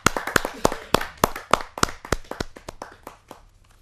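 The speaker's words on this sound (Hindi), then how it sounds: "जोरदार ताली के साथ हम उनका स्वागत करें" A small audience at a Hindi poetry gathering claps to welcome a poet, a loose run of sharp, distinct handclaps that starts brisk and loud, then thins out and fades toward the end.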